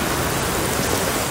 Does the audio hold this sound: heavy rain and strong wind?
yes